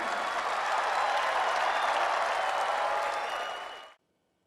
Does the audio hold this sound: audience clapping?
yes